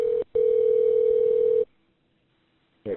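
A steady telephone tone sounds during the transfer of a 911 call to fire rescue, briefly broken near the start, then cut off into silence before a voice comes on the line.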